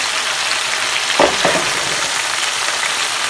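Pork chops frying in a pan give a loud, dense, continuous sizzle, with a couple of brief scraping clatters near the middle and no talking.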